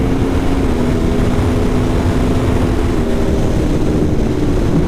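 A 2018 Aprilia Tuono Factory motorcycle under way, its engine a loud, steady drone mixed with rushing wind noise throughout, no voices.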